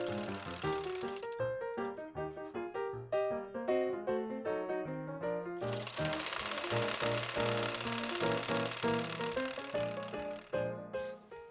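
A sewing machine stitches pin tucks on a blouse sewn from old curtains, its needle running in rapid, steady bursts with short pauses between seams, close and loud with no talk.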